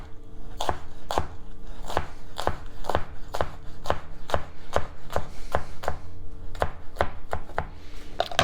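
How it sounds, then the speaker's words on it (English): Knife slicing rolled basil leaves into thin chiffonade on a cutting board, a run of about fifteen crisp, evenly spaced chops at a quick steady pace, close and clear with no speech. "we just want to roll everything up and then slice it very thin"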